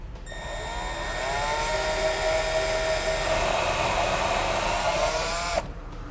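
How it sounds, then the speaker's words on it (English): A power drill with a step drill bit whines at a steady high pitch for about five seconds while cutting a 5/8 inch hole in plastic, its tone wavering slightly, then stops abruptly; close and loud. "I'm going to take a step drill bit and I'm going to drill it out to a 5/8 inch."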